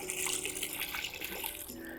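A wash mitt soaked in Gyeon EcoWash rinseless wash solution sheds water in a steady, close, splashy trickle with no talking.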